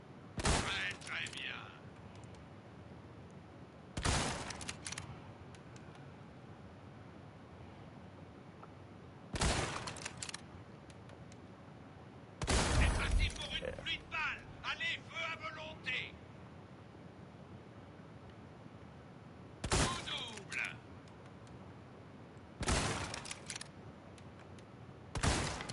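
Gunshots at the Resident Evil 4 shooting range in the video game: six or so sharp, loud shots spaced a few seconds apart, some in quick doubled bursts, over a quiet background hum.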